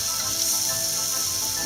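Finely chopped shallots fry in a knob of butter, giving a dense, even sizzle, close and constant with no talking.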